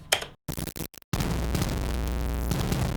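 Harsh, heavily overdriven audio from a limiter's input boosted 30 dB: a few choppy bursts cut by silences, then a continuous wall of crushed, buzzing distortion.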